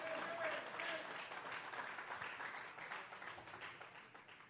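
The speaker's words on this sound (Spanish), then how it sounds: "Dele fuerte esas palmas al Dios de la gloria" A church congregation claps in applause, a dense burst of many hands that is loud at first and slowly fades, with a preacher's voice speaking over it.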